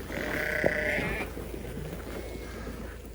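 Sheep on a farm give a clear, fairly close bleat in the first second, then quieter bleats and calls follow over a steady outdoor background.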